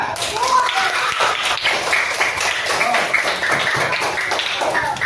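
A classroom of students claps for a presenting group, steady dense patter of many hands lasting several seconds at moderate loudness with room ambience.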